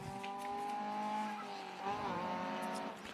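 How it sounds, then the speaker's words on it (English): A Datsun 510 runs a sprint course at a motorsport event, its engine note droning steadily with harmonic tones that dip and climb as it shifts, continuous and moderately distant throughout. "Paul Gilbert on course now in the Datsun 510"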